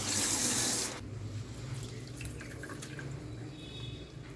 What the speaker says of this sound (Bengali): সবটা জল যতটা আছে নিয়ে দিচ্ছি